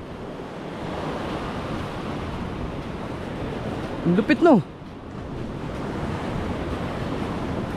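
A flooded river rushes as a broad, steady roar of water and wind noise, with a man's brief spoken exclamation rising over it midway.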